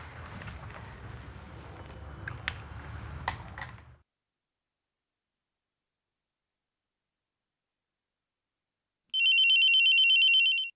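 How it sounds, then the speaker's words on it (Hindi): A telephone rings once in a short electronic burst after several seconds of silence, following a stretch of muffled background activity. "मैं जिया को फोन करता हूँ।"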